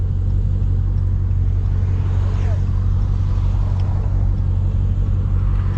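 Steady low exhaust drone from a Dodge Charger SRT Hellcat cruising at night, heard from inside the cabin as a constant rumble with road noise, no sharp revs.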